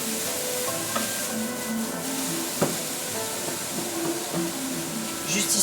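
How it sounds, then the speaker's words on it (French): Onions sautéing with lentils in a very hot pan give a steady, close sizzle and crackle, with a few soft stirring scrapes and clinks throughout. "On va faire sauter tout ça."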